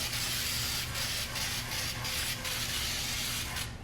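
Baker's Joy baking spray hisses onto a baking pan for blackberry cobbler in a steady close spray lasting a few seconds, broken by faint rhythmic pulses as the can moves, with no speech.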